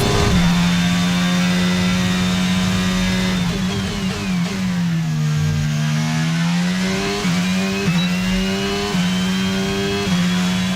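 Loud race car engine from the F1 22 video game, revving steadily with rising and falling pitch as gears shift, a continuous close, high-pitched whine without talk.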